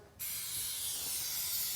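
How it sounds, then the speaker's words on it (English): A Dupli-Color aerosol spray paint can spraying, a sharp, loud, continuous hiss that starts abruptly and holds steady. "Whenever spraying, just hold the can about 8 to 10 inches from the surface."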